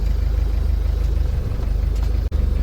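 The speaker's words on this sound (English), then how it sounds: "A little bit concerned that the bus doesn't sound like it's going very well." A bus engine straining as if stuck in the wrong gear, a steady low droning rumble with a pulsing throb, heard from inside the vehicle and continuing throughout without speech.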